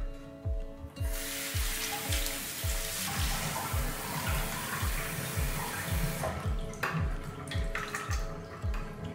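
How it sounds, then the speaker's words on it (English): A Roborock S50 vacuum filter is washed under a running tap, with loud continuous splashing water and a rhythmic series of repeated knocks or taps running throughout. "Just wash it underwater and then let it dry before you place it inside the bin."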